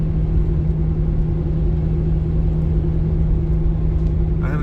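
A 1997 Jeep Cherokee XJ engine idling, a steady low rumble with a constant hum, close and even, with no speech.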